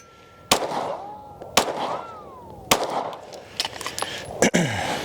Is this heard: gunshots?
yes